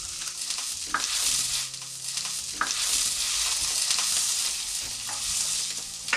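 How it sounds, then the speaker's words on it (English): Tofu or vegan protein sautéing in a pan over a live flame, a soft continuous sizzle with occasional stirring clicks and scrapes, fairly quiet and without talk. "And saute it a little bit."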